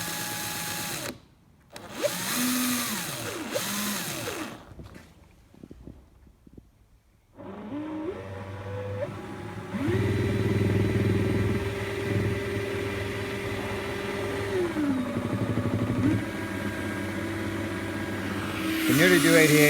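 A Volkswagen Corrado engine revs during a speedometer test, with rising and falling whines and a long sustained high-rev drone, interrupted early by brief pauses, heard up close.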